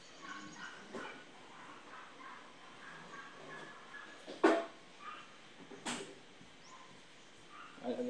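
A sick dog whimpers softly in a quiet room, with faint, scattered whines and a few brief louder yelps spread across the stretch.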